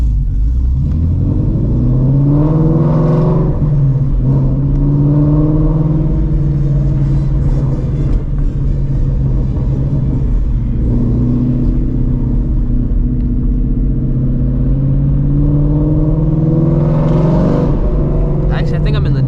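A straight-piped Ford Shelby GT350 growls steadily while being driven through city streets at night, its deep exhaust drone rising and falling with throttle, with someone talking over it.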